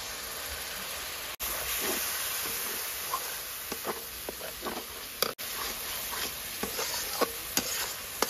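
Spice paste of cumin powder, turmeric and chilli paste stir-fried for a Bengali katla fish kaliya, a steady hiss of frying with soft scattered scraping strokes of the spatula, close and continuous.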